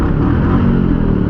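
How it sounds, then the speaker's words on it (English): A 2021 Royal Enfield Classic 350 BS6 motorcycle idles loudly up close, its exhaust producing a steady, deep rumbling thump with no voices over it. "you will feel a lot of thump in the exhaust"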